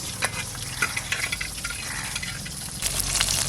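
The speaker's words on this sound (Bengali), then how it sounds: "মাছ ভাজা হয়ে গেছে, এবার তুলে নেব।" Pieces of chital fish belly sizzle and crackle as they fry in hot oil, a close, steady hiss with small pops and the occasional clink of stirring.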